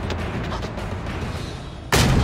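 A pistol shot from a pirate adventure film lands as a sudden loud broadband blast near the end, cutting through a dense, rumbling background of score and effects.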